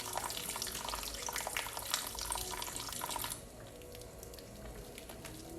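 Hands rinsed under a running tap during a handwashing demonstration, with a close, steady splashing rush of water that softens partway through into a quieter flow, and no talking.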